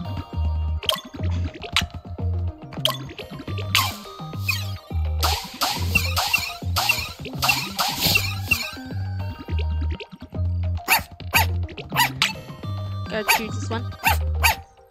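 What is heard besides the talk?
dog barking in the video game Wobbledogs 2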